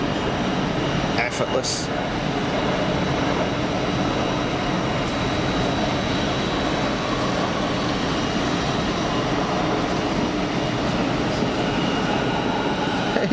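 An EasyJet aircraft moves at Geneva Airport, its engine noise a continuous, even roar filling the background while someone speaks briefly over it.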